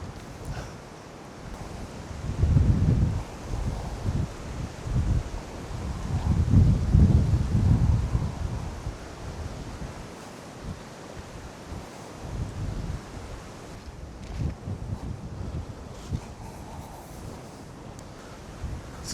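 Wind blows across an open hilltop in Worcestershire, roaring into the microphone in strong low gusts that rise and fall over several seconds, with trees rustling faintly between the gusts.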